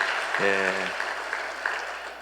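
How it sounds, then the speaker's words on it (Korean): A church congregation during a Sunday service claps in a diffuse, moderate patter, partly masked by a brief low tone and nearby voices. "박수로 감사하다고 한번 축하하는 박수 고맙겠습니다."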